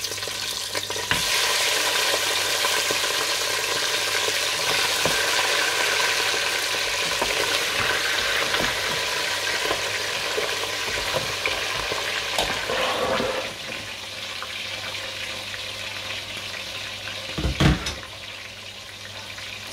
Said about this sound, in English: I will add this meat inside this hot oil.